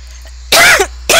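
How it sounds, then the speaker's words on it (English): A person coughs close by, with one harsh, loud burst followed after a short pause by the start of a second, over a low steady background hum. "Why am I coughing all of a sudden?"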